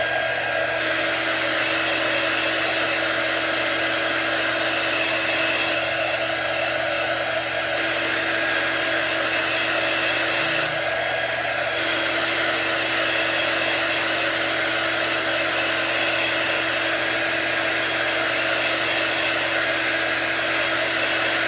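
A hair dryer blows steadily to dry painted chalk artwork, a loud continuous airy roar with a constant motor hum, close and uninterrupted throughout, with no talking.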